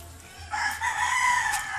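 Chickens crow and cluck at a moderate distance on a farm, a rising call joining steady low background noise partway through.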